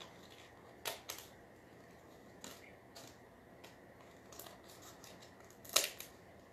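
Scissors snip at the edge of a bunny shelf sitter in a handful of faint, sharp cuts spaced irregularly over a quiet background.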